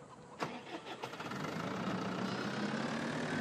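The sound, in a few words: Bobcat skid steer engine idling in video game Farming Simulator 2013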